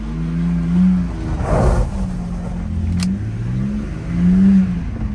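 A BMW 325 engine revs up in sharp swells, rising and falling pitch as the throttle is pushed hard, fairly loud and close with a whirring tone between surges, no talk.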